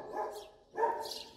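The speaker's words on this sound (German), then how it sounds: "Die sind Welpen, die möchten spielen die ganze Zeit," A young mixed-breed female puppy at play lets out two short, yappy barks about half a second apart, close and fairly quiet, with no talking.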